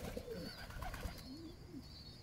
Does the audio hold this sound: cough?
no